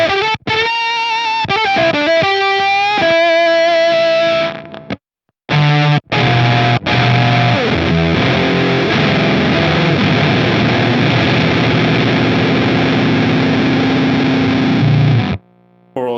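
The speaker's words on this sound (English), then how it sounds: "we can add the octave up before it" An electric guitar played through an octave-up pedal, loud and processed, with chords and sustained notes broken by a couple of brief silences, heard alone without talk.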